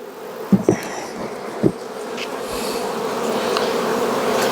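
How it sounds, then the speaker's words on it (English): Dense buzzing of many honey bees close by around an open hive, a steady swarming drone with a few soft knocks early on. "they are just buzzing and happy"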